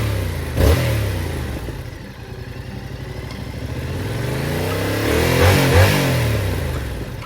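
A first motorcycle with its stock exhaust idles and is revved several times, the engine note rising and falling in throaty swells with some mechanical clatter, loud and close with no talk.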